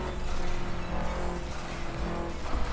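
A Subaru WRX engine in Forza Horizon 4 drones under load, a steady close mechanical roar with a brief rush near the end that could be the blow-off valve.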